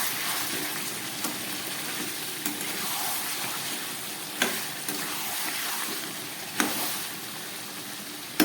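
Chicken stir-fried in oil over raised heat, a loud continuous sizzle with occasional sharp scrapes of the spatula against the pan recurring every couple of seconds.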